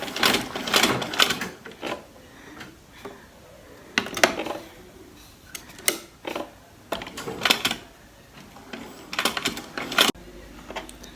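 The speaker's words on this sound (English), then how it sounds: "when you've shifted the cloth to where you want it to be, raise it back down and then sew" Domestic sewing machine stitching a zigzag through cloth, running in short irregular bursts with pauses between, fairly close and moderately loud, with no talking.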